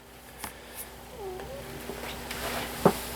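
A cat indoors at an off-grid property, with soft purring and a single faint meow; the sounds are quiet and intermittent against low room noise.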